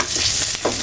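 Chili, tomato and garlic fry in oil for sambal, giving a short burst of steady sizzling with a brief stir partway through and no talk.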